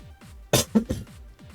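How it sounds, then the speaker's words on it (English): A person gives a short burst of two or three close coughs, each a sharp, harsh exhalation, with a quiet room behind them. "My cough came back a little bit."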